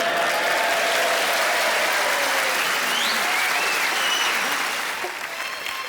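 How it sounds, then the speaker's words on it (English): A large Glasgow comedy crowd applauds with a dense, loud wash of clapping and a few whoops, holding steady before easing slightly near the end. "That simple act of applauding, it's everything you work for as a performer."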